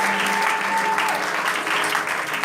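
Church congregation applauding and cheering, a dense, steady wash of clapping that stays loud and close throughout, with voices faintly mixed in.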